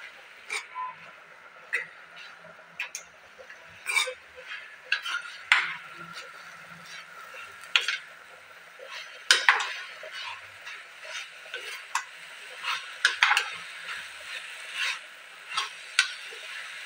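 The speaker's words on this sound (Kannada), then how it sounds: "ಈರುಳ್ಳಿ ಟೊಮೊಟೊ ಚೆನ್ನಾಗಿ ಫ್ರೈ ಮಾಡ್ಕೋಬೇಕು" Onion and tomato fry in a pan with garlic and grated coconut, and a utensil scrapes and clacks against the metal over and over at an uneven pace. A soft sizzle runs underneath the close, sharp stirring sounds.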